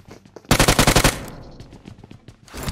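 Automatic gunfire in PUBG Mobile: a loud, rapid burst of about eight shots lasting under a second, followed by fainter game sounds and more distant shots, with no speech over it.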